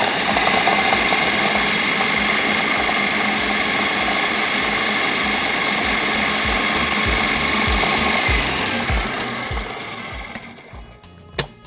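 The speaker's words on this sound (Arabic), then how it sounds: "وادي حبه كمون على التوم وافرمهم" An electric chopper minces garlic cloves with cumin seeds, a loud, steady motorized whir with gear-like rattling for about ten seconds, then it winds down and stops with a small clack.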